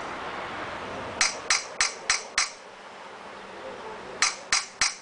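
A hammer strikes an expansion tool set into a Helicoil thread insert, five crisp metallic taps in quick succession, a pause, then three more, close and clear.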